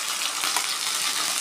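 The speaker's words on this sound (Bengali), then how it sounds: "আমরা এখানে কড়াইয়ের মধ্যে সবটা নারকেল দিয়ে নিয়েছি।" Coconut paste sizzles steadily in hot ghee in a wok, a dense, even crackle close up with no voices.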